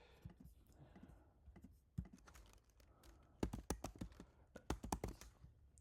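Typing text on a computer keyboard, a quiet, irregular patter of clicks that grows into quicker bursts of keystrokes near the mic, with no talking.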